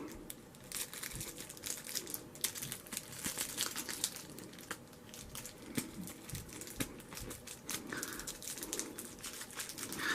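Thin plastic bag holding a pack of waterproof matches crinkles and rustles continuously as it is opened, with close, irregular crackles and no one talking.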